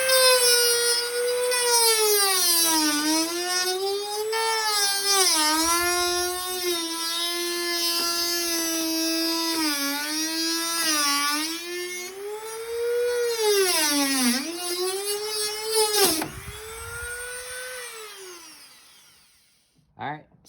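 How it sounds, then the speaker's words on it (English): A handheld Dremel rotary tool cuts through soffit around a deck or porch light. It gives a loud, high-pitched whine that rises and dips as the load changes, running almost continuously before spinning down at the end. "using your Dremel, go ahead and cut it"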